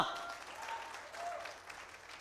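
An audience claps in a hall, a soft, dense patter of many hands, steady and fairly distant, fading slightly toward the end.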